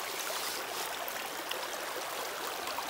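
Water rushing steadily through a gold sluice box fed with flood-deposited material, a continuous broadband wash like a small stream, close and even in level throughout with no talking.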